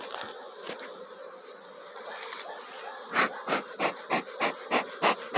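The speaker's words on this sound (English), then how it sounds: "wonderful colony of bees" A honey bee colony hums at an open beehive in Jamaica, a soft, continuous buzz close by, joined later by a run of regular, pulsing puffs that repeat about every third of a second.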